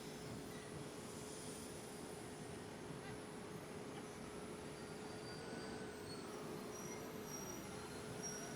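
A Class 455/8 electric train from Train Simulator on a South London local route runs quietly, with a faint steady rolling hum and a thin whine rising slightly toward the end, no voices.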